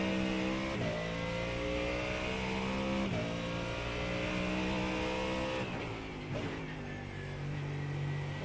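Race car on the Nürburgring Nordschleife accelerating hard, engine climbing steadily in pitch with quick upshifts roughly every two to three seconds, loud and close as if from onboard, with no talking.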